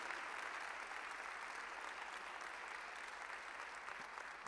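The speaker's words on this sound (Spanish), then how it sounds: "me gustaría que la recibamos con un fuerte aplauso" A church audience applauds steadily to welcome someone speaker to a workshop in a temple in Tandil, a dense, even wash of many hands clapping that holds at full strength without pause.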